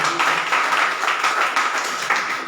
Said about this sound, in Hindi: क्यों ना हम सब उसके लिए एक बार जोरदार तालियां बजाएं